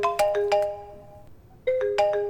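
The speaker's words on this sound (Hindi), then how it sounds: "Some bad guy is calling." Phone ringtone sounding for an incoming call in a Hindi-dubbed action film, two bursts of a bright repeating melodic tone separated by a short quiet gap, loud and close with no talk over it.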